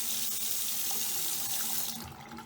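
Cold water runs steadily from a Delta faucet into a sink, a close, continuous hiss and splash that fades slightly at the end.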